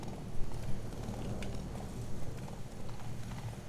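Hooves of a horse clip-clop in a steady rhythm through a video game chase after a merchant, a continuous mid-level patter running over low game background sound.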